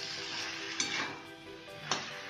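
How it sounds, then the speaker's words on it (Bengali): Papaya chapor ghonto, a vegetarian Bengali dish, stirred together in a pan with a steady sizzle beneath, broken by two sharp scrapes of a utensil against the pan. "এখন আমি সবগুলোকে একসাথে সুন্দর করে পুরো মিশিয়ে নেব।"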